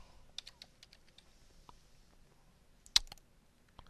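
Keys tapped on a computer keyboard while entering a value into a spreadsheet box, a sparse run of soft clicks with one louder sharp strike near the end, close and quiet with no talking.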